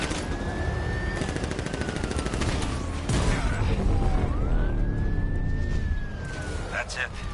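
Rapid gunfire bursts in the Batman: Arkham Knight video game, loud and continuous, mixed with a rising and falling siren tone and shouted voices throughout.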